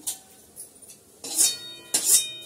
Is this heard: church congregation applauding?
no